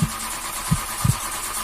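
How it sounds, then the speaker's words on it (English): Car ignition turned on a parked car in a driveway: a few faint mechanical clicks and short bumps over quiet background, with the engine never catching. "So I closed my eyes and I just turned the ignition"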